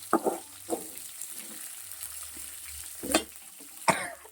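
Tomato and beetroot chutney ingredients fry in a pan with soft sizzling, while a spoon scrapes and stirs in a few distinct, sharp bursts, close and quiet.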